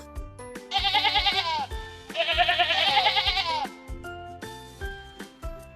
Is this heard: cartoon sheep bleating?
yes